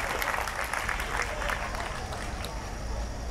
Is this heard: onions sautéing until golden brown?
no